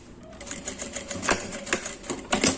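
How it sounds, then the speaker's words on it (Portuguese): Sewing machine stitching fabric and working a backstitch at the start of a gusset seam, with short bursts of rapid needle clatter separated by brief pauses, close and moderately loud. "Nós vamos costurar até aqui onde que começa o fole. Vamos fazer um retrocesso."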